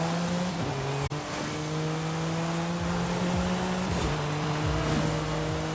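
A Porsche 935 race car driven in Forza Horizon 5, its engine droning steadily at high revs with gear shifts and brief tire squeal, loud and close with no talk.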